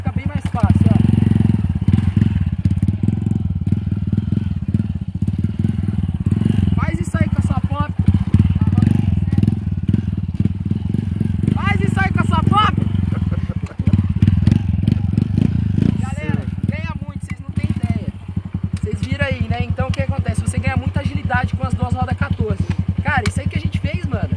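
A small Honda Pop 110 motorcycle engine drones continuously nearby as it is ridden, with bumps and thuds over the ground and voices talking over the engine.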